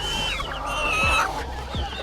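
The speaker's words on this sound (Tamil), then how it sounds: "சேவலெல்லாம் நிற்குது." Farm chickens and roosters cluck and squawk, with a rooster's drawn-out call in the middle and short clucks around it, close and steady against a low background hum.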